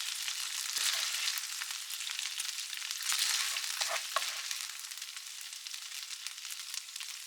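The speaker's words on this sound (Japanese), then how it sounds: "しっかり炒めたらスープ用に取り分けて" Ingredients stir-fry with doubanjiang in a pot, giving a continuous bright sizzle with crackling bursts. A few louder scrapes and stirring knocks come through near the middle, and no one speaks.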